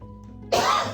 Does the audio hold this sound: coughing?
yes